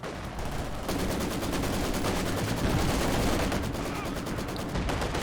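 Sustained Maxim machine gun fire in a Company of Heroes 2 battle, a dense continuous rattle of rapid shots lasting throughout, loud and close, with other battle noise mixed in.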